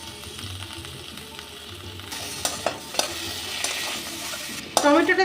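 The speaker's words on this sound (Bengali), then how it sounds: "টমেটোটা দিয়েও আর একটু কষে নেব" Tomato frying in a spice paste of turmeric and Kashmiri chilli powder, a soft sizzle that swells as a spoon stirs and scrapes the pan, with a few sharp knocks near the end.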